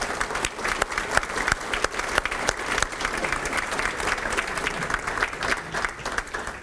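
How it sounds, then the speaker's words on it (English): A Rotary Club audience at a volunteer recognition event gives committee members a sustained round of applause, with dense, even clapping filling the room and little talk underneath. "Give them a round of applause."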